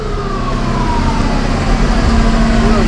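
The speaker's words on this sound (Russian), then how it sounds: "Скорая, точнее, работает сигнализация скорой." An ambulance siren wails along Kalarash Street in Lazarevskoye, Sochi, a rising and falling tone under loud, continuous street and traffic noise.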